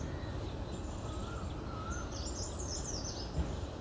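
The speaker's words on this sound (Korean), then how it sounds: "새소리" Birds sing faintly in a forest facing the Himalayas, with a few thin, brief chirps and whistles rising over a steady outdoor hiss, distant and quiet.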